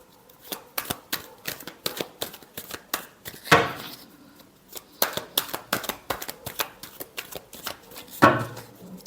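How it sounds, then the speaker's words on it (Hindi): Tarot cards are shuffled by hand in a steady run of crisp riffling clicks and flutters, close and fairly quiet, with a couple of louder bursts of card noise partway through and no voices. "last shuffle"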